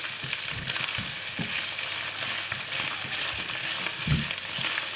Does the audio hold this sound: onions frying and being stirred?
yes